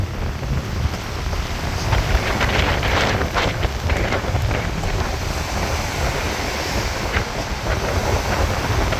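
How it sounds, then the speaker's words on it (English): Strong wind roars continuously at Wilderness State Park, buffeting the microphone in a dense, steady rush with surf mixed underneath. "because the wind is howling"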